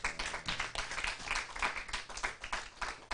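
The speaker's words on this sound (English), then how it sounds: "let's clap for Jeffrey" An audience claps together in a sustained, steady round of applause, with dense overlapping hand claps all the way through and no voices on top.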